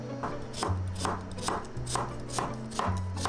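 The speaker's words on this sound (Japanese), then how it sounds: "きゅうりは薄切りにします。" Close, steady knife strokes through cucumber on a board, a run of about eight crisp, regular chops slicing it thinly, with no voices.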